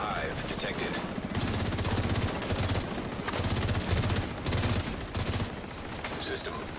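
Sustained automatic gunfire from The Division 2 shooter game rattles in repeated heavy bursts, loud and continuous across the whole stretch, with brief gaps between volleys.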